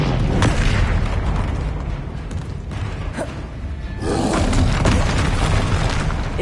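Confringo and Incendio spells fired in Hogwarts Legacy, with loud booming blasts and crackling bursts coming one after another and a short lull partway through.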